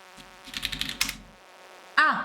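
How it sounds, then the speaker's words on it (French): Buzzing housefly in the video game Stardew Valley, a thin insect drone under a run of quick tapping clicks, then a sharper tonal game blip near the end. "on a le bruit de la mouche en plus qui ne s'arrête pas"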